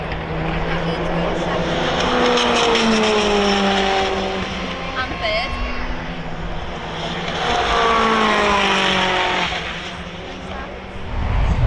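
Race cars roar past on the track at Donington Park in two long engine swells with shifting pitch, loud and steady, and people talk beneath the noise.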